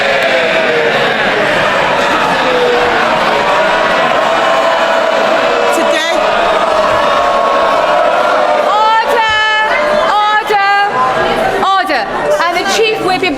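MPs in the House of Commons chamber erupt in clapping, cheering and jeering, a loud sustained crowd roar with hollers and shouts rising over it toward the end.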